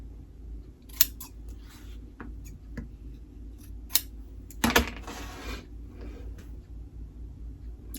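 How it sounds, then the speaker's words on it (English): Scissors snip through fabric background pieces for a quilt in a few scattered, close, quiet cuts, with one louder burst of cutting near the middle over a steady low room hum. "now I'm going to cut 2 pieces of background"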